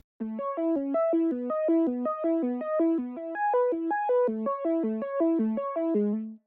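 A bright Serum synthesizer plays a quick, steady arpeggio, cycling repeating note patterns up and down in a clean, even rhythm with no voices.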